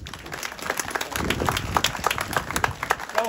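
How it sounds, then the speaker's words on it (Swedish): An indoor audience at a tractor enthusiasts' café event applauds, a dense patter of clapping that builds and holds steady at moderate distance. "En stor applåd för dem."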